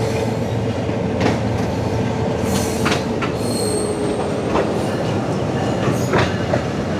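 GU20 locomotive hauling a historical safari train on the Rawalpindi–Attock Khurd line, accelerating: a steady loud rumble of wheels on rails with repeated high wheel squeals and brief screeches throughout, close by.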